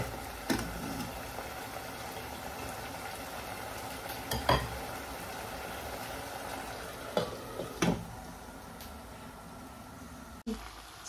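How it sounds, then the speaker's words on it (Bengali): Chicken sizzles steadily in a pan as it fries in its own juices, a constant close hiss broken by a few sharp stirring scrapes and clinks. "চিকেন ফ্রাই হয়ে এসছে"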